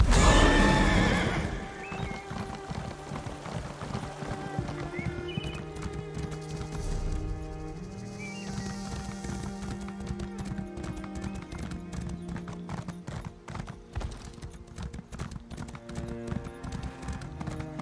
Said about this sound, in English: Summon my horse.